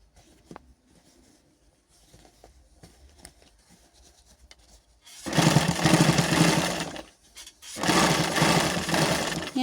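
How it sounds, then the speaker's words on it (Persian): A sewing machine stitches a trouser pocket during home tailoring: after a quiet start, two loud, steady bursts of rapid stitching run close by, separated by a brief pause. "ببینید دقیقاً از همون قسمت که سوزن زدم میدوزم"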